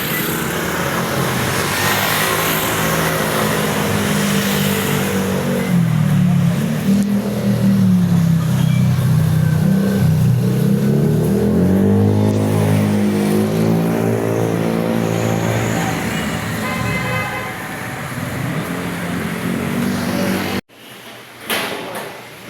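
A vehicle engine revs loudly and continuously for about twenty seconds, rising and falling in pitch with several throttle surges, then cuts off abruptly before a short burst of noise returns at the end; no clear horn stands out.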